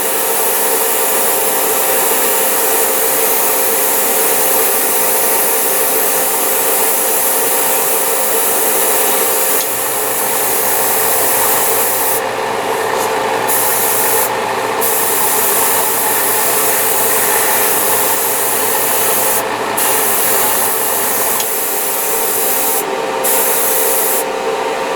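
Airbrush hiss sprays steadily and loudly for the whole stretch, a continuous broadband air-and-paint rush with a few brief bright bursts where the trigger flow changes.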